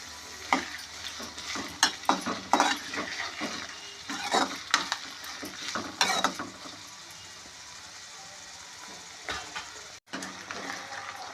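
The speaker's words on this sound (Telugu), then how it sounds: "ఉల్లిపాయలు వేగిపోయాయండి." Onions frying in a pan, a close crackling sizzle punctuated by bursts of rattling spatula scrapes, quieter near the end.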